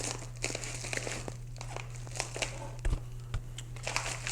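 Cardboard box and plastic packaging of a graphics card being opened during a budget PC build, with close crinkling, rustling and tearing that comes in irregular bursts.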